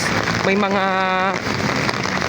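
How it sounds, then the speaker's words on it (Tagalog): Heavy rain pouring steadily in Makati City, a dense continuous hiss with a voice talking over it partway through. "Lakas ng ulan."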